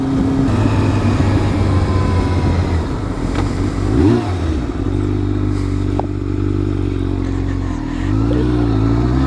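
Sport bike motorcycle shifting down, engine revs dropping and rising in uneven swoops with clattering chain noise, loud and close against steady wind and road roar.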